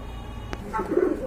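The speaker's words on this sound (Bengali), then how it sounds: "ভিউয়ার্স আরেক জোড়া কবুতর দেখতে পাচ্ছেন মাশাআল্লাহ" Feather-footed pigeons offered for sale, with a soft low cooing toward the end of the moment after a brief sharp click, close and fairly quiet, no talking.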